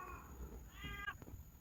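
A single short cat meow, close and fairly quiet, with a faint click and low background rumble.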